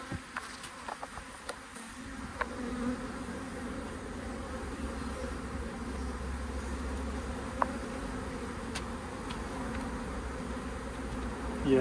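Aggressive honey bees from a five-year-old colony swarm and buzz during a relocation, a dense, steady drone that holds level throughout, close and fairly loud, with a few faint clicks and knocks near the start.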